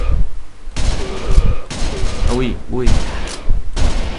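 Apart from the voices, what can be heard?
gunfire in the video game Virtua Cop 2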